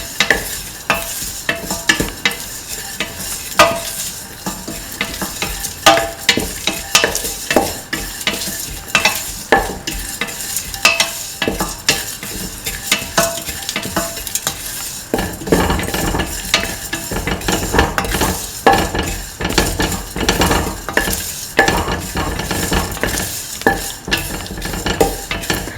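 A spoon scrapes and stirs through a sizzling pan of soup mixture with rice flakes (poha) and salt, steady clattering strokes over a continuous frying hiss throughout.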